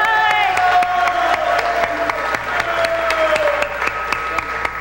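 Audience applause with some cheering at a live anniversary variety show, steady dense clapping throughout with vocal whoops and a sustained sung or called tone layered over it.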